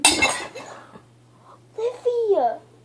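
A glass cup breaks with a sharp, bright shatter at the start that fades within half a second. After a pause, a person speaks.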